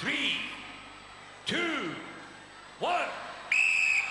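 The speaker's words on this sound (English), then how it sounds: "Contenders, you will go on my first whistle." A referee's whistle at a 1995 UK Gladiators semi-final climbing event gives a short loud blast at the end of a spoken countdown, with crowd noise behind.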